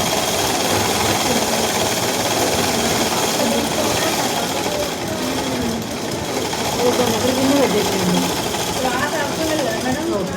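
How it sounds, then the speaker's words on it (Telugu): An electric sewing machine runs steadily, top stitching a dress in a tailoring lesson, its continuous whirring hum sounding close and loud throughout while an instructor talks over it. "వన్ సైడ్ మంచి కుట్టుకోవాలి."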